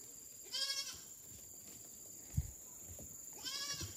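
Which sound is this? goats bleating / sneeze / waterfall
goats bleating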